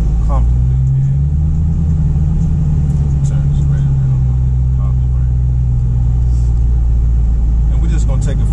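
A 2019 Dodge Challenger SRT Hellcat Widebody idles with a deep, steady engine rumble that stays loud and close throughout, with a voice talking over it.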